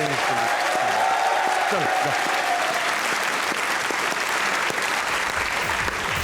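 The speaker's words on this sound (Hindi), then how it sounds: "ये लो ताली होनी चाहिए इसके लिए" Studio audience applauding on a comedy talk show, a loud, sustained wall of clapping that stays dense for the whole stretch, with a host's voice briefly heard over it.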